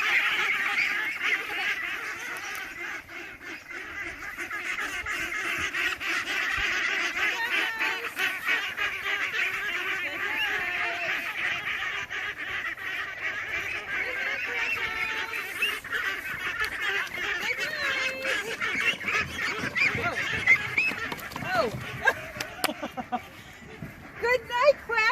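Ducks on a homestead chatter and honk as they go into their duck house at night, a continuous busy flock of calls with a person talking over them.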